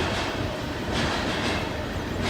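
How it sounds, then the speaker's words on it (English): A long, empty coal train rolling past close by: a loud, continuous, broadband rumble and rattle of wagons and wheels that fills the whole stretch without pause. "That was a long empty coal train."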